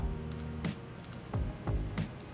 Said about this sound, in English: Typing in there, Smiths.